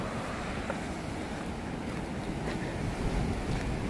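Big ocean waves roll and wash at Timang Beach in Jogja at high tide, a steady broadband roar with wind buffeting the microphone, with no voices.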